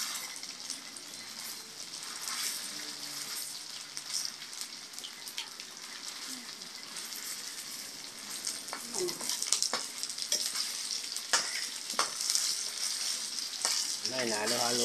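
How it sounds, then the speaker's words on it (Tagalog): Pork skin frying in a pan while being stirred, a continuous bright sizzle and crackle with occasional scraping and clinking from the stirring, moderately loud and close, no talking. "Inahalo-halo ko na siya para di siya maluto"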